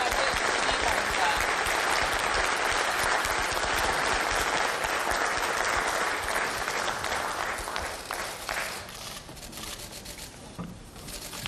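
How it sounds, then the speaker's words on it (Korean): Sustained applause from an indoor crowd at a party caucus meeting in Korea, welcoming a presidential candidate to the podium; dense clapping holds steady, then thins and fades toward the end. "여러분 모두 박수로 맞이해주시기 바랍니다"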